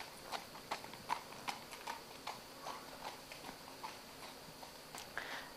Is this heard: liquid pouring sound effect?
no